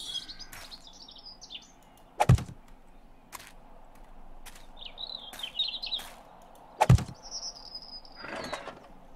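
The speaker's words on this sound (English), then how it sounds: "I hear birds all around." Birds chirp in short scattered bursts in the 7 Days to Die video game, thin and fairly distant, broken by a few sharp loud thuds and clicks.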